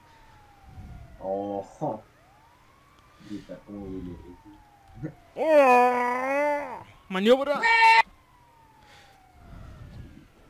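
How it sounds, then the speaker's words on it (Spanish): Ambulance siren in the video game GTA Online, wailing tones rising and falling under and between excited talk from players, loudest in a strong burst near the middle of the clip. "No, maldita ambulancia."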